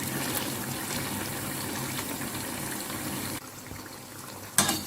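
Potato rusks frying in oil in a pan larger than the rusks, a steady, close, hissing sizzle that holds evenly, then drops slightly quieter near the end with a brief clatter.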